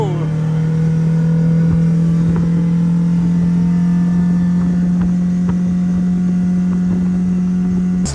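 A motorboat on a lake drones with a strong, steady engine hum that holds at high power throughout, with wind buffeting the microphone.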